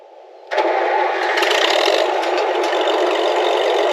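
A John Deere tractor engine that has sat unused for a month cranks and catches abruptly, then runs in a loud, steady rattling roar, alone with no talk.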